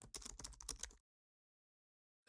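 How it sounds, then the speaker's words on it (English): Rapid keyboard typing in the Goddess of Victory: Nikke video game, a quick burst of crisp clicking keystrokes for about a second, then silence before one final sharp keypress. "The sound of someone typing fill the air."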